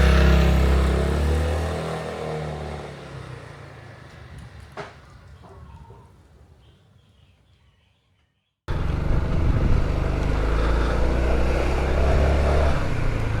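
Honda ADV 350 scooter ridden along a road, with a steady engine drone and wind rush that fades out for a moment, then cuts back in loud and continuous.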